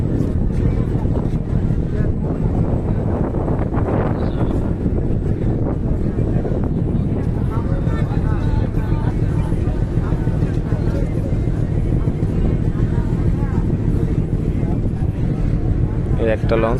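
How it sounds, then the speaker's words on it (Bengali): The Karnaphuli 11 passenger launch travels on the river between Bhola and Dhaka, its engine a constant loud low drone mixed with wind buffeting, while people talk over it throughout. "একটা লঞ্চ, এটা হলো কর্ণফুলী 11"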